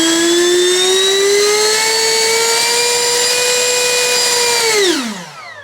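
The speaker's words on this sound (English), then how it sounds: "Let's give it a quick little EDF test." A Freewing Lippisch P.15 model jet with a 64mm electric ducted fan runs up to a steady, loud high-pitched whine, holds for several seconds, then spools down quickly to silence.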